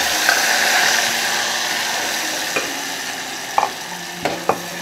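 Masala paste for Kolhapuri mutton white curry (pandhra rassa) frying and being stirred in a pan, a steady loud sizzle with a few sharp scraping clicks of the spoon toward the end, no talking.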